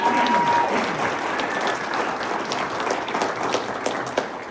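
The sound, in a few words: audience applause for award winner Carolyn Flanagan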